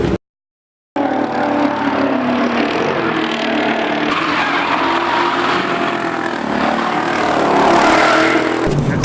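A Nissan Z drifting on a track roars loudly and continuously, engine revving hard with squealing, skidding tires, close and unbroken after a brief silent gap at the start, at a drift event in Drums, Pennsylvania.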